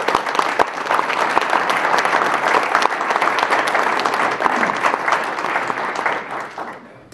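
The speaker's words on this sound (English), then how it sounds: "Big round of applause for them." Sustained applause from a seated audience after the first panel group finishes, a steady dense patter of clapping that fills the room for several seconds before tapering off toward the end.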